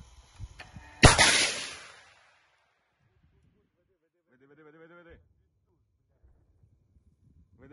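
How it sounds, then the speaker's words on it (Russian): A single sharp gunshot or artillery blast in a wartime combat area near Kherson, a loud crack with a ringing decay lasting about a second, followed by quiet and a brief burst of faint radio-like voice. "Выстрел."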